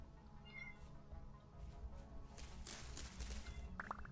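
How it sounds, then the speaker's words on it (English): A pet cat meows insistently, with short yowls cutting through steady background game noise and music. The calls come close and clear toward the end. "my cat's yelling at me"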